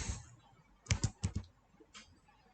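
Several quick keystrokes on a computer keyboard while code is typed, a short cluster of close, crisp clicks followed by one fainter tap in a quiet room.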